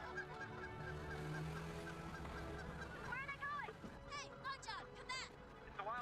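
A flock of geese honks in a film scene, a run of loud overlapping calls building in the second half over a steady background hum.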